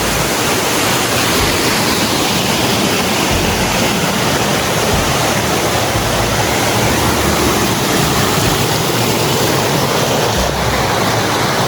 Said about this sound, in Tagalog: yung pinaka-highlight ng property na to is ayan nga ang waterfalls or itong ayan, kita niyo naman sobrang lakas ng daloy ng tubig din